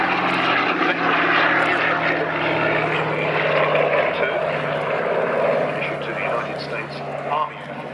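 Propeller aircraft flying at the Duxford autumn airshow, a steady loud droning engine roar that holds throughout, with a voice commentating over it.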